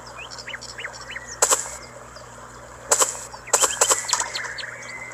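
Bird sounds in the video game Golf Orbit: several short chirps, then bursts of broadband flapping from wings at about 1.5, 3 and 3.6 seconds. Game effects and faint background tones run under the whole passage.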